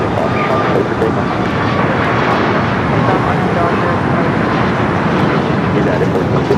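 Airliner taking off from runway 25 right at LAX, a loud, steady roar of jet engines heard from nearby, with faint radio chatter mixed in.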